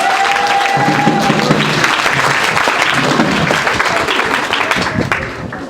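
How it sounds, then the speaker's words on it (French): Congregation in a church service applauding and cheering loudly, a dense continuous wash of clapping and crowd voices that carries on throughout and fades slightly at the end. "Est-ce qu'on peut acclamer Jésus-Christ"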